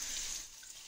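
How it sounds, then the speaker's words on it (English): Tap water runs over a leek in a kitchen sink, a brief soft hiss of flowing water, close and quiet. "Quickly wash this leek."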